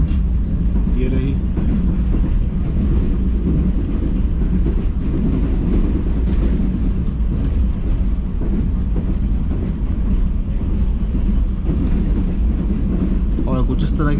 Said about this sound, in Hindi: और कुछ इस तरह की स्पीड में अब ट्रेन हमारे स्किप करने जा रही है शेरशाह जंक्शन रेलवे स्टेशन को